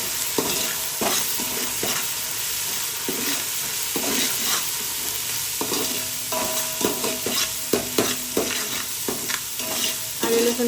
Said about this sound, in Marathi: आता आपण ह्यात आलं लसूण पेस्ट टाकू. 2 मिनिट परतून घ्यायची कधी पण.